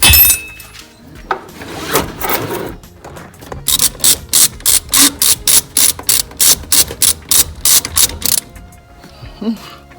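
A ratchet wrench clicks in fast, even bursts while shocks are replaced on a 2012 Toyota, loud and close, with a few scattered metallic clinks before and after the run.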